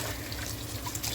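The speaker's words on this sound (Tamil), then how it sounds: "இப்போ வந்து இந்த சிக்கனை வந்து நல்லா க்ளீனாக வாஷ் பண்ணி எடுத்துப்போம்" Running water splashes and trickles steadily over raw chicken as it is washed in a home kitchen, a close, continuous wet rush.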